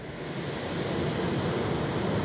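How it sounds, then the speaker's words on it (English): Steady white noise from a loudspeaker, picked up by a DPA 2017 shotgun microphone, fills the recording as an even, unbroken hiss at moderate level with no other sounds. "I'm gonna play some white noise over the speaker and point the mic in different directions"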